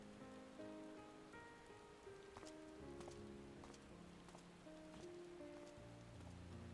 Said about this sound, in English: Out in the rain.